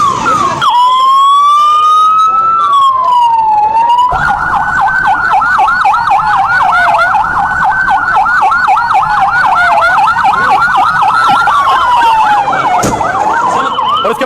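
Ambulances arriving one after another at New Delhi railway station, their sirens loud and close, wailing and yelping over one another continuously with traffic noise beneath.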